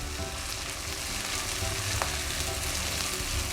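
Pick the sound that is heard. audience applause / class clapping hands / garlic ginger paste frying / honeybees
garlic ginger paste frying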